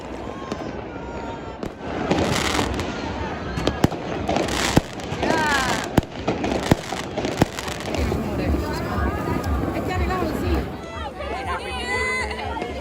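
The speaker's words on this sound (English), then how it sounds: "watch the fireworks go off at 12 to bring in the new year, 2024" New Year's midnight fireworks in Italy pop and bang repeatedly over a loud, cheering crowd, with sharp cracks standing out above steady chatter and shouting.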